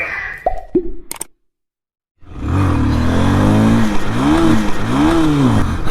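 A Pulsar 220 motorcycle engine idles in neutral after a few sharp knocks and a pause, then runs loud and close with rising and falling revs.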